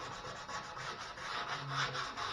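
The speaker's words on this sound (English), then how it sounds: "I'm going back over with 80 now and try to smooth it out" Coarse 80-grit sandpaper rubs rhythmically over an old car wheel from a 1964 Buick Skylark, a close scratchy rasp in repeated back-and-forth strokes with no talk.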